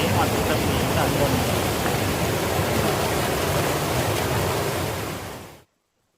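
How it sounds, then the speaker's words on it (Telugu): Water rushing down the rocky hills at Bodakonda waterfall near Hyderabad makes a steady, loud, broadband roar that stays constant before cutting out abruptly near the end. "ఈ కొండల పై నుండి నీళ్లు చాలా వేగంగా ప్రవహిస్తున్నాయి"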